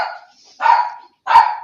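A puppy barking three times in quick succession, short sharp yaps close to the microphone with brief silent gaps between.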